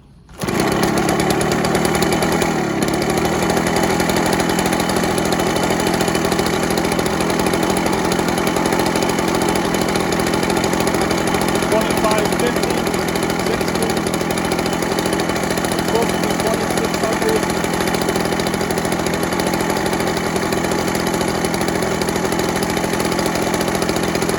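Echo PB413H backpack blower engine idling: a steady, continuous mid-pitched two-stroke drone, loud and close, holding an even speed from start to finish.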